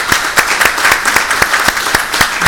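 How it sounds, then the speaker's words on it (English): A small audience at an event gives applause, with distinct individual claps landing in a loose, regular rhythm over a thin bed of scattered hands, close and fairly loud. "let's give another round of applause for Johanna"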